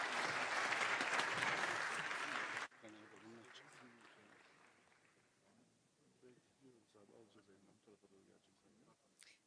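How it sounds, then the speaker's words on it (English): Audience applause for panelists closing a session at a NATO summit gathering in Ankara, loud and dense for under three seconds, then cutting off abruptly to quiet room noise with faint speech. "Please join me in giving them a round of applause"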